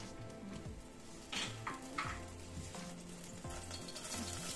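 Green salsa for chicken enchiladas verdes frying in a splash of oil in a small pot: a steady close sizzle with stirring scrapes and a few light utensil clinks against the pot.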